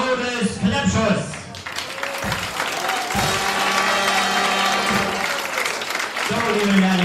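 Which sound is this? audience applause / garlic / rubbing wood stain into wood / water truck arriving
audience applause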